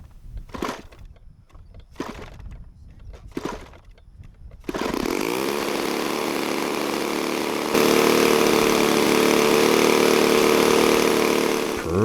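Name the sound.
Cessna C-188 Agwagon RC model airplane engine starting and running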